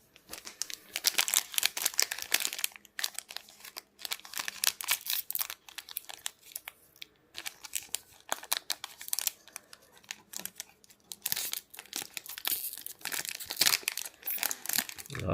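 Foil Magic: The Gathering booster pack wrappers, from a Lorwyn Eclipsed draft night box, are torn and crinkled open in a long run of sharp, close crackling bursts, with no talk.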